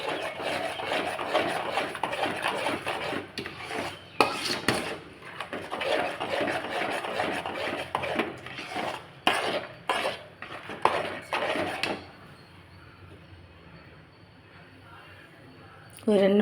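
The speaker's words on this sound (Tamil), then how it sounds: "இந்த மாதிரி நம்ம இதை கொஞ்சம் கைவிடாமல் கிண்டி விட்டுகிட்டே இருக்கணும்." A utensil scrapes and clatters against a pan as a sweet butter puttu mixture with jaggery is stirred continuously, irregular knocks and scrapes for about twelve seconds before it goes quiet, with someone talking over it.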